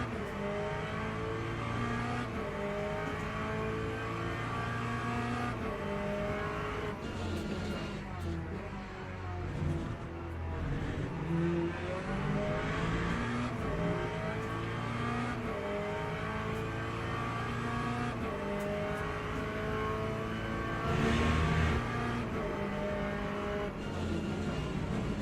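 Race car engines from LMP3 prototypes at Silverstone in Le Mans Ultimate, a loud continuous multi-car roar with rising and falling revs and gear changes, a faster car closing in, and race-engineer radio talk over it.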